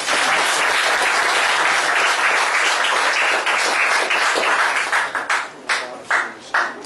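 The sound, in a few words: audience applause at a lecture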